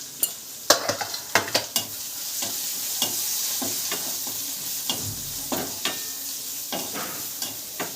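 Turmeric, red chili and coriander powder sizzle in hot oil in a kadai, a steady close frying hiss broken by sharp scraping strokes of a stirring spoon, busier at the start and then settling.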